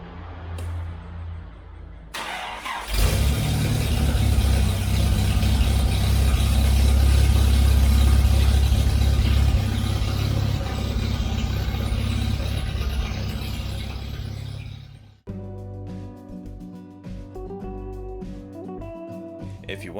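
An Austin Healey engine with freshly balanced and color-tuned carburetors starts abruptly and runs steadily, close and loud, with a deep, even rumble for about twelve seconds before cutting off into music.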